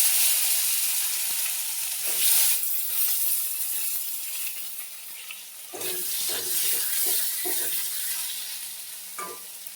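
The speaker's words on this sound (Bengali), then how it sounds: "এই তেলের মধ্যে বেগুনটা ভেজে নেব।" Brinjal fries in hot oil in a home kitchen pan, a steady close sizzle broken by a few clattering stirs, with no talk.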